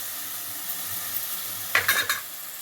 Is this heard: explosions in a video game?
no